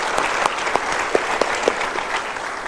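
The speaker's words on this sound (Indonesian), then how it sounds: "Kita berikan tepuk tangan." A seminar audience at a motivational talk bursts into loud, dense applause, a continuous wash of many hands clapping with a few sharper individual claps standing out.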